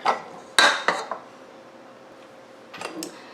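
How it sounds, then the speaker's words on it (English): A metal dough hook knocks and clinks against a stand mixer bowl of pizza dough, a few sharp clanks close by in the first second, then quiet, then a couple more light knocks at the end. "So I'm going to take off my dough hook"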